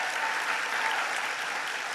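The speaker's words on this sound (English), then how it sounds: "Give him a big round of applause." Steady applause from a conference audience at an opening plenary session, dense and continuous clapping that fills the room at an even level throughout.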